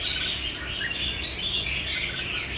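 Red-whiskered bulbul songbird singing, a steady stream of bright chirping phrases close by and fairly loud, continuing without pause and with no voices.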